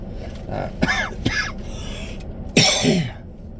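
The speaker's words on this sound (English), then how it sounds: "I know I cough a lot in the video so far" Several harsh coughs from one person, two quick close bursts followed by a louder, longer fit near the end, over a low steady background hum.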